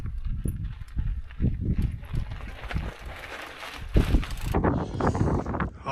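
Gusty wind blows on a mountain bike trail, hitting the microphone in irregular low thumps and rushing bursts that rise and fall over several seconds.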